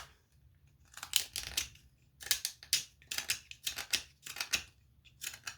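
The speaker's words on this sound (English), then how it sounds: "Let's turn the knife this way and it should cut cleaner." In a shop, a knife cuts against the grain of a material with a series of about six rasping, scraping strokes. The strokes come in quick bursts with short pauses between them, close up and alone.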